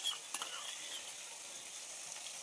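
Taro flower curry sizzles steadily in a pan as it fries, a soft continuous crackle with a couple of brief clinks near the start, no voices present.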